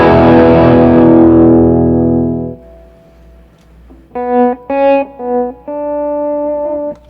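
An electric guitar with a compressed overdrive tone rings out in a sustained chord that cuts off, followed by several short, punchy stabbed notes and a held note, loud and up front with no talking.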